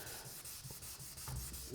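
Hand sanding of car body filler over a white guide coat, worked in small cross-hatch angles: close, rhythmic rasping strokes repeating steadily, with no talking.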